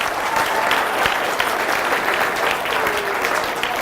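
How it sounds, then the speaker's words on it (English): A business seminar audience applauds themselves, a close, continuous burst of many hands clapping that keeps a steady crackling texture throughout. "Give yourself a round of applause."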